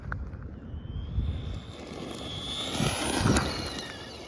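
A 4S belt-drive Traxxas Bandit RC car's electric motor winds up at full throttle, a rising high-pitched whine over gravelly tire and ground noise, moderately distant and building toward the end.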